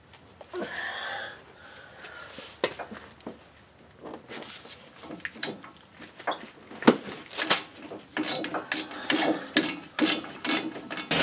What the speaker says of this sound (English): See if I can get on the back bolts for the wheel bearing.